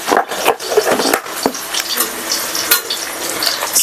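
Ginger garlic paste frying in hot oil for a South Indian vada curry, a steady close sizzle broken by scraping and stirring knocks against the pan.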